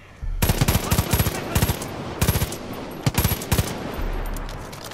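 Bursts of automatic gunfire in Far Cry 5 as a player shoots down vultures, several rapid volleys of close, loud shots with short pauses between them over a steady background rumble.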